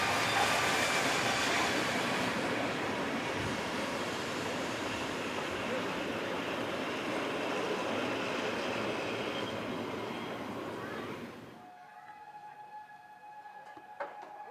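Tram number 353 arriving at a station on a shuttle service from Saint-Médard, a steady rolling rumble of wheels on rail that fades and cuts to quiet near the end, with faint tonal hums and clicks afterward.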